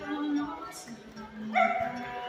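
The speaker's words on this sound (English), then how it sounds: "with us are these amazing dogs we call the Marvelous Mutts" Dogs bark and yip near a crowd at an outdoor Marvelous Mutts dog show at Stone Mountain Park, with a few short barks over an announcer talking on a PA.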